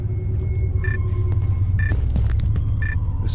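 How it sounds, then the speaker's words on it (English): Low storm rumble in a horror video game, a constant heavy throbbing drone that fills the background while brief higher tones and faint clicks surface above it. "This storm, it feels"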